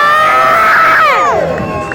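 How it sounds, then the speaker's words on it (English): A crowd at an outdoor car show lets out a loud, sustained cheer with whoops and high shouting voices, holding steady for about a second before trailing off. "I want the absolute biggest cheer you can muster"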